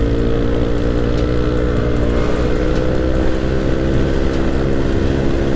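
Riding at speed, a Yamaha Aerox scooter bored up to 200cc gives a loud, sustained engine drone with constant rough harmonics and steady intensity, no voices over it.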